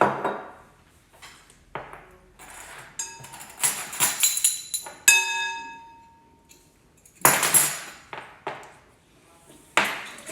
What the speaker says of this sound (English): So we'll just mix that in all together